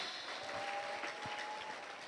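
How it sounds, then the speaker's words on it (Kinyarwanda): Soft, steady congregational clapping during a church sermon forms an even wash of sound, fairly quiet and distant, with a faint tonal hum running beneath. "tuyikomera amashyi mu izina rya Yesu"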